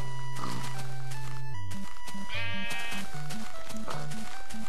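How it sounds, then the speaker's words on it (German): Sheep in the Minecraft video game bleat several times in quick succession: loud, close, nasal cries set against other blocky game sound effects. "Na komm, Schaf."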